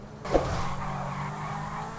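A Zentorno sports car skids in a video game, a tire squeal bursting out sharply then trailing off into a sustained engine drone, loud and close with no talk over it.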